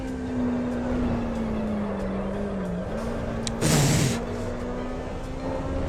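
A race car in the Assetto Corsa Evo video game holds a steady engine drone, with a brief burst of tyre squeal and scrub midway as it slides and regains grip. The engine is fairly loud and close.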